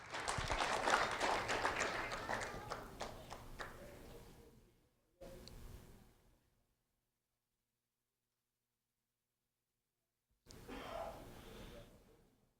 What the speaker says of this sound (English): a round of applause for Sabrina Alvarado, please.